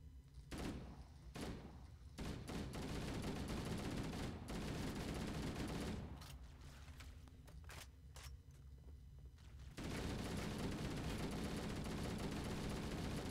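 Gunfire in the video game Halo CE, with dense automatic bursts and repeated shots packed together, loud and close, briefly dropping off before returning at full intensity.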